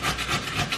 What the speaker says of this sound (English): So I'm just grating a piece of pumpkin here